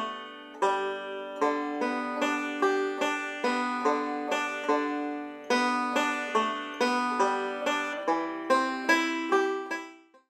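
Bluegrass banjo plays a Jingle Bells arrangement with rolling picking patterns, bright plucked notes in a steady, rapid stream with regular accented phrases, close and clear with no talking.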